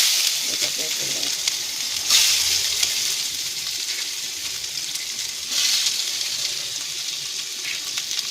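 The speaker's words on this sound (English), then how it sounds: "Now we will add onions, chopped onions here." Chopped onions sizzle steadily in hot oil for a bhindi sabzi, a loud continuous frying hiss with brief surges of crackle, close and alone without talk.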